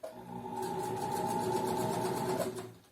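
A sewing machine runs continuously and close by, sewing a seam to hold a pocket opening, with a steady motor hum and rapid needle rhythm for about three seconds.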